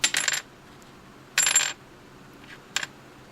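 Three sharp, bright clicks of a Tusk plastic guitar nut dropped onto a hard surface, each a short dull clatter with no ringing tail, spaced apart and heard alone.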